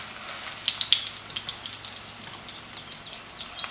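Potato-filled tortilla papadillas shallow frying in oil, giving a soft steady sizzle with sparse crackles and pops, close and fairly quiet, with no talk.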